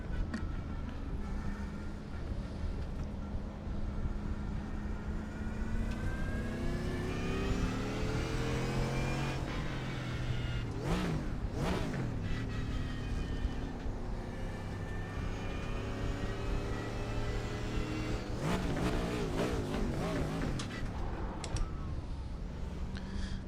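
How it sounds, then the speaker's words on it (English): A Mercedes AMG GT4 race car engine revs in an iRacing simulation at Watkins Glen, a steady loud drone with repeated throttle blips rising and falling near the middle and end. "Panicked a bit there, I was too busy revving the engine up."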